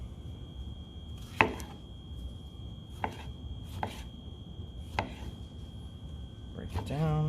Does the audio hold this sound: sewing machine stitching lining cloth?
no